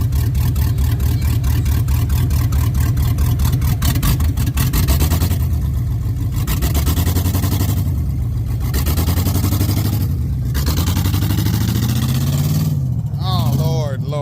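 An LS-swapped OBS truck with no exhaust roars loudly up close, rising and falling through several hard accelerations and gear changes, its raw engine note continuous throughout, with speech tagged in the clip.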